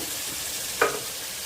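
Vegetables sauté in a pan for kurma with a steady soft sizzle, broken by one brief stirring clatter partway through; no talking.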